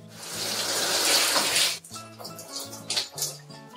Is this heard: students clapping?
no